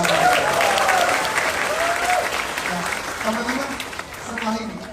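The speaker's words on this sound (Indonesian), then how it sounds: "Boleh untuk segmen ini tepuk tangan dulu dong." Audience applause at a Desak Anies political forum in Indonesia, a steady dense clapping that stays loud for about five seconds, with a few voices or cheers rising over it.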